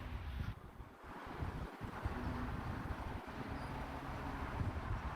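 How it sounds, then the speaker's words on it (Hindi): Strong wind blows steadily outdoors at a scenic viewpoint, a continuous rushing buffet on the microphone with occasional low thumps, fairly faint overall. "यार हवा भी फुल हैवी चल रही है"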